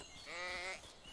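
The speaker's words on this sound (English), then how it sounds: "complaints from the sheeps and the goats" A single drawn-out sheep or goat bleat from livestock in the Medieval Dynasty video game, a quavering, wavering cry lasting about half a second and heard faintly and alone.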